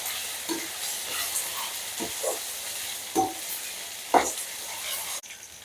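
Sliced tomatoes with ginger-garlic paste masala frying in a pan, a steady close sizzle broken by several scraping stirs of a spoon, with no talk.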